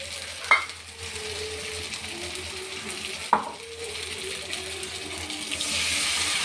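Half-cooked potatoes fry in a pan as fried prawns are added, producing a soft continuous sizzle broken by two sharp utensil clanks, with no talking.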